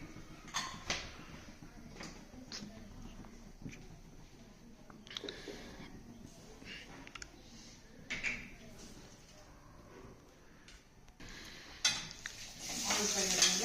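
Green chillies and onions frying in oil for macaroni pasta, a faint steady sizzle with occasional spoon scrapes and pan clinks, quiet and close, with a soft hiss rising near the end.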